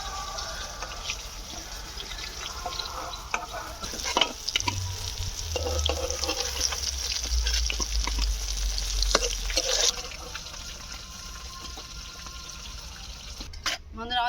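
Pieces of fish fry in oil in a small karahi, giving a steady close sizzle with scattered clinks and stirring bursts, a low rumble underneath, easing toward the end.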